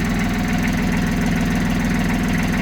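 A tractor engine idles steadily after sitting unused for a month and a half, a loud, close, even rhythmic chugging with a low knocking pulse throughout; no talking.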